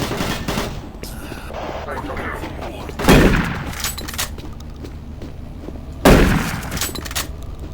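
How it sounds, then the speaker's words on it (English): Gunfire in Doom 3, with two loud sharp shot bursts about three seconds apart over a steady game ambience, and a voice talking quietly in between. "What are you shooting at?"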